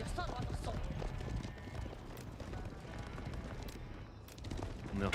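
Horse hooves clip-clop at a steady trot in the Age of Empires IV strategy game, mixed with busy game sounds under near-constant commentator talk.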